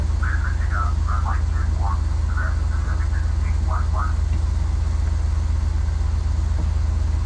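A Cessna light aircraft taxiing, its engine giving a steady low drone throughout while people talk over it.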